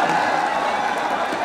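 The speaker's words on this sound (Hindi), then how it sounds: "जोरदार तालियों से।" Crowd at a rally applauding, a dense, steady wash of clapping and murmur from many people, fairly loud throughout.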